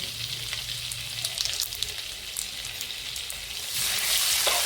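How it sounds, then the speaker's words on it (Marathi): Shahjeera (caraway) and bay leaves fry in melted butter for pav bhaji, a steady close sizzle that grows louder and brighter near the end. "छान तळून द्यायचं बटर। बटर वितळलंय आपलं छानपैकी। शहाजिरे पण छान परतून झाले।"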